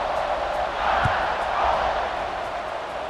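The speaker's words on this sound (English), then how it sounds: "this crowd is feeling themselves after that last drive" Stadium crowd in the College Football 26 video game, a steady roaring wash of cheering that swells and ebbs, with a couple of low thuds.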